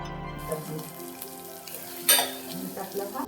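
Fresh coriander fries in an onion-garlic masala for mutton kheema, making a soft, continuous sizzle with stirring scrapes and one louder burst near the end. There is no talking.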